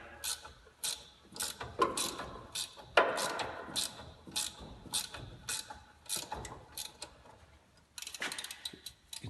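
Ratcheting wrench, 3/4 size, loosening the upper ball joint retaining nut on a worn ball joint, quick repeated clicking strokes in bursts with short pauses, close and moderately quiet, no talk.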